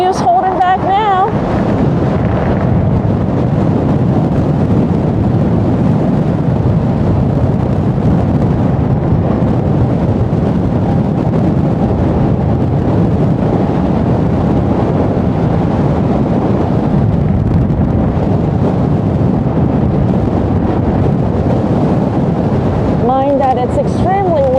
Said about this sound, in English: Mind that it's extremely windy right now.